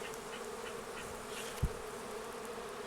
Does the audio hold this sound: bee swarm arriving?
yes